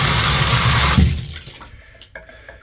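Tap water rushing steadily into a bathtub fitted with a new drain gasket, loud and close, then cutting off and leaving faint drips and small knocks in a quiet bathroom.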